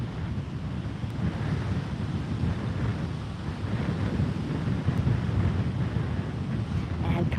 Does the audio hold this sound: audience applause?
no